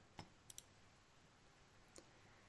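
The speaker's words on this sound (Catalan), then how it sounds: "les seleccionem amb el botó esquerre del ratolí" Computer mouse clicks while selecting table cells in Microsoft Word: a few faint, sharp clicks, a quick double click, then another single click, over quiet room hiss.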